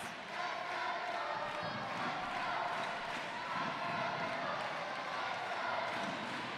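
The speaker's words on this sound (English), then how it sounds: "there you can hear the 13th player in the crowd" Loud Gibraltarian crowd noise at an under-17 netball match between Gibraltar and the Isle of Man, a steady roar of cheering and voices filling the whole stretch without letting up.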